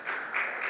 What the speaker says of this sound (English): Everybody give a quick round of applause for David Gent